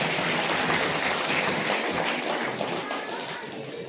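At a foundation day ceremony for honoured soldiers, a crowd claps loudly and steadily, a dense wash of applause that fades slightly toward the end.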